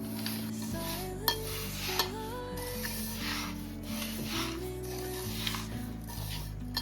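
A spoon scrapes and stirs ravva laddu mixture with ghee, fried raisins and cashews in a pot, a continuous rubbing sound with a few clinks, under steady tonal background music.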